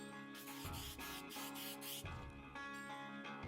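A scrub plane's metal sole scrubs back and forth across a sheet of 60 grit sandpaper stuck down with Easy Tack, giving loud, harsh rasping strokes in a few long passes with a faint tonal hum beneath.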